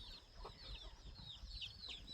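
A hen on a farm clucks softly as she climbs onto her eggs, a few faint, intermittent clucks over a low, rumbling outdoor background with no speech.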